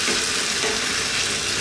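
Creamy chicken and spinach sauce is stirred in a hot pan, giving a steady, close sizzle with soft scraping throughout and no talking.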